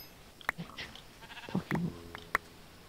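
Sheep in Minecraft bleating several times in short, fairly quiet calls spread over a few seconds, with faint background sounds between them.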